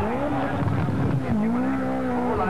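A factory-prepared 310-horsepower plastic-bodied Lancia rally car driven hard on tarmac at a 1983 Belgian rally, its engine loud, close and sustained, pitch rising and dipping through gear changes with tire noise underneath.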